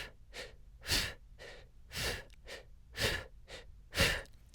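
Forceful rhythmic breaths during a bird dog exercise hold, sharp close exhalations alternating with quicker inhales, about eight bursts in a steady pattern with no speech.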